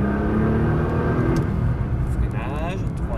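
A Nissan GT-R engine accelerates on a race track, a loud continuous roar with rising harmonic tones that fills the whole clip, while a voice talks over it.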